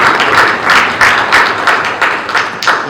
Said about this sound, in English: Let's acclimate, accepted by acclamation of clapping